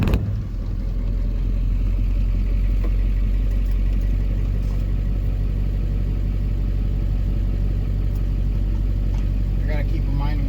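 A donor truck's engine runs steadily at idle, a continuous low rumble with some clatter that holds through the whole stretch, with people talking over it.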